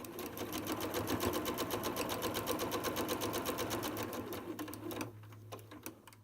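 A sewing machine stitching a quilt block seam hums in a steady close run of rapid needle strokes, slowing and stopping near the end, with no talking.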